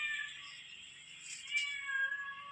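A domestic cat meows repeatedly in long, wavering, high-pitched cries close by, with faint background noise and no talking.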